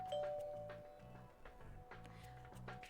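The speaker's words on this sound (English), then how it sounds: "then rang the doorbell" Doorbell chime from the visual novel game Collar X Malice, sounding as a repeating ding-dong pattern of bright tones that rings steadily through the whole stretch over a faint low background.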